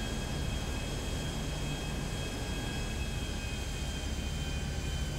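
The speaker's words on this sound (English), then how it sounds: "Let's go land this plane." Steady, loud airplane engine drone in Grand Theft Auto V, a continuous even roar with a constant whine on top and no break or change throughout.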